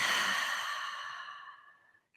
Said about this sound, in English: take just a big, deep breath in through your nose and exhale from your mouth